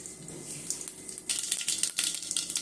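Mustard seeds crackling and sizzling in hot oil in a pan, a quiet fizz that grows denser and louder about halfway through with scattered small pops, no voices.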